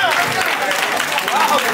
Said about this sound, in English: Y'all give this new legend a round of applause.